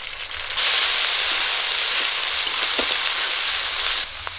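Ginger, garlic and onion paste hits hot oil left from frying river fish and bursts into a loud, steady sizzle. The sizzle drops back sharply near the end, with a few faint stirring clicks underneath.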